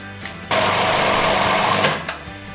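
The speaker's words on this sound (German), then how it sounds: "damit das alles wirklich gut und geschmeidig püriert wird" Blender pureeing a no-bake vegan avocado cheesecake filling: a loud, close motor whir starts suddenly and runs steadily for about a second and a half, then cuts off, with no talk.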